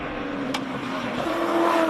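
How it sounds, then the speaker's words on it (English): A Ford Mustang V8 climbs a hillclimb course, its engine note droning steadily and rising slightly as it pulls away, with a short sharp burst partway through. "Franco Di Matteo up in the Mustang"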